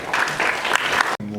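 An audience at a job-mentoring talk event claps steadily for just over a second, a dense patter of hands close by before it cuts off.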